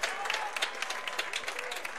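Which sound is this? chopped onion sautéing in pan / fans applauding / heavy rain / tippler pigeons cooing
fans applauding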